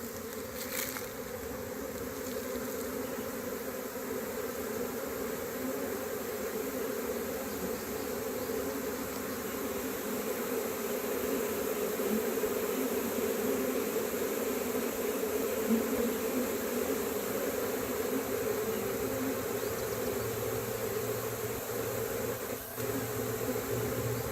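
Honey bees buzz densely and continuously around a newly set up all-medium beehive, a steady close drone with no voices.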